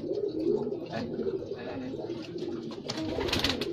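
Young racing pigeon cooing nearby, soft repeated coos close up over a busy background, with faint voices at times.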